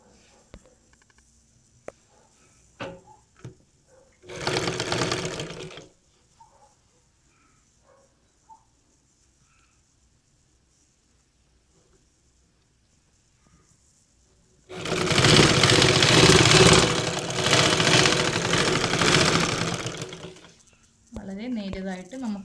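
A sewing machine stitches the folded edge of a saree in two bursts, a brief one early and a longer steady whir later, with quiet gaps and a speaking voice between them.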